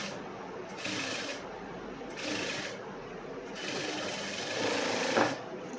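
A sewing machine stitching a blouse runs in short bursts of rapid whirring, stopping and starting about four times, fairly close but at moderate volume.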